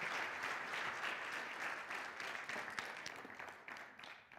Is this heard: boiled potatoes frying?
no